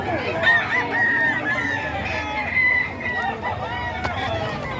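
Thompson White gamefowl roosters crow and cluck nearby amid a busy crowd of other birds, overlapping calls over a noisy background, with faint talk.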